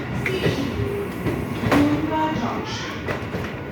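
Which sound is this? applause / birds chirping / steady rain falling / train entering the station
train entering the station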